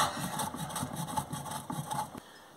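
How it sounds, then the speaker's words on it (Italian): Cheese rubbed against a grater makes a quick, even series of soft rasping strokes, close by and fairly quiet, repeating steadily. "andiamo a togliere la sua etichettina e andiamo a dargli una bella grattatina"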